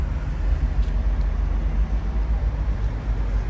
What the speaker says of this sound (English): Now on this side of the church the traffic noise is much worse